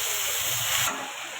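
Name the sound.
dill greens added to hot oil with garlic, sizzling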